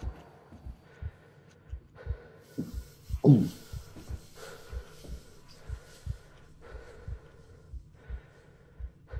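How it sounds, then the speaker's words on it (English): A slow, steady heartbeat pulses in the horror video game Syndrome, deep thumps repeating about every half second, near and alone, with a brief louder low groan-like swell partway through. "Can you stop with this heartbeat,"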